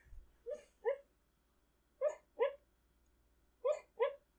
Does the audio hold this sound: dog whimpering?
yes